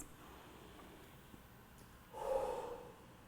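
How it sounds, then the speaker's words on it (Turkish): A single forceful huffing exhale, part of a breathing exercise for clearing phlegm, heard up close after a stretch of quiet room tone. "nefes alıp Huffing yöntemini yapacağız."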